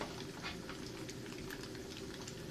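Quiet, continuous sizzling and bubbling of tofu fritters with ginger frying in hot oil, with soft crackles and pops.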